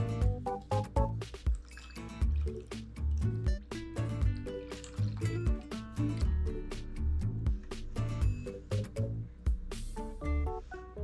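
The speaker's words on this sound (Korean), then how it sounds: "코코넛 밀크도 함께 넣어줄게요." Coconut milk is poured into a kaya jam mixture in a kitchen, giving close, wet drips, glugs and squishy liquid sounds in an uneven rhythm, with no talk over them.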